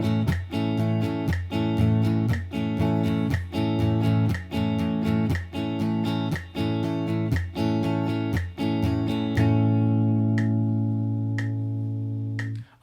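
A guitar strums in time with a metronome at 60 bpm: one steady chord stroke per click, evenly spaced, for about nine seconds. After that a sustained chord rings while faint ticks continue.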